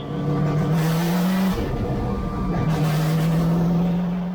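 Race car at Lime Rock rolling out on the pace lap on a damp track after morning rain, its engine droning steadily close by with a rising and dipping pitch and no voices.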